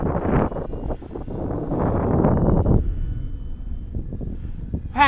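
E-flite 1.2 m Spitfire RC model warbird flies past in gusty wind with a buzzing electric motor that swells then fades over a few seconds, wind buffeting the microphone near the end.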